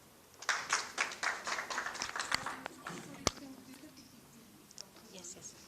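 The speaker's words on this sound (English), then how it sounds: "Let's welcome him with a clap." An audience at a therapy centre for children with autism claps to welcome a guest speaker, a brief burst of moderate applause that thins out to a few scattered claps and quiet room noise.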